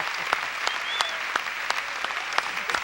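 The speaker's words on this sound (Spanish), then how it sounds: "dale un aplauso al Señor bien fuerte" Church congregation applauding during a Spanish-language sermon, a sustained, even patter of many hands with occasional sharp individual claps, heard throughout at moderate loudness.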